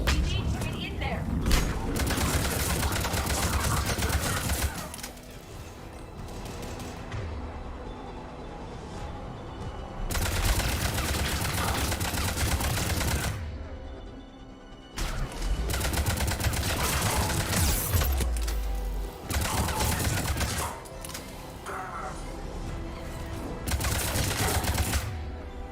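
Heavy gunfire at a Cerberus checkpoint in Mass Effect 3, with loud sustained bursts of shots and thuds broken by short quieter gaps, while characters speak over the combat.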